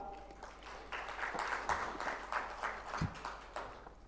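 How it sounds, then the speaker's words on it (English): Audience applause at a fintech forum on Islamic finance, a steady wash of clapping from a conference crowd that swells and dips over a few seconds, moderately distant with no speech. "Please, big round of applause for her."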